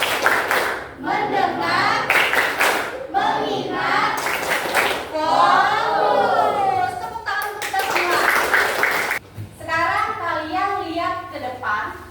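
A class of children claps their hands together in bursts of rhythmic patterned clapping, loud and close, with a teacher and children speaking between the rounds.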